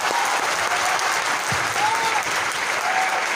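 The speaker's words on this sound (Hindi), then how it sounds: "आप ले जोरदार तालियां बजाइए आप।" An audience at a business seminar in a hall claps loudly and steadily the whole time, a dense continuous wash of applause.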